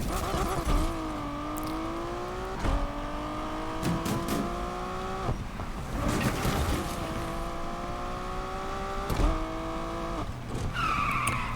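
A revving racing car engine in Need for Speed climbs through the gears while its tires slide and break loose on gravel. Harsh scrapes mark the hard cornering and downshifts.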